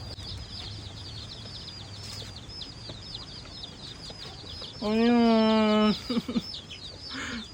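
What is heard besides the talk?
chick chirping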